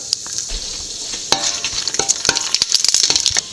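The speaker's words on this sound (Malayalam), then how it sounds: "എണ്ണ നല്ലപോലെ ചൂടായതിന് ശേഷം കടുക് കൊടുക്കാം" Mustard seeds and dried red chilies crackle and sizzle in hot oil in a pan for tempering, with sharp popping bursts that grow busier toward the end over a steady frying hiss.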